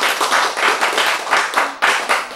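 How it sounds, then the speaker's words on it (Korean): An audience at a lecture on love claps in loud, close bursts of hands that come in a loose rhythm, with no talk over them. "박수 안 쳐요?"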